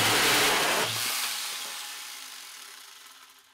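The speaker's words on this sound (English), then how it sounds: "We're going to make one cut with it on just a regular corded grinder." A cheap corded angle grinder fitted with a chainsaw attachment cuts through wood with a loud, rough whine that fades steadily as the cut finishes.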